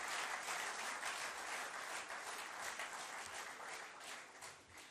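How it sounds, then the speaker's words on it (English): Loud, sustained applause from an audience at a business awards ceremony honouring Business India's Best Bank 2010, a dense continuous wash of clapping that fills the whole stretch. "A round of applause, please, for Mr. Malia and all his colleagues."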